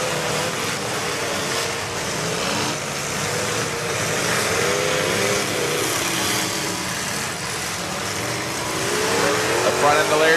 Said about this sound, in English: listen to that motor in that car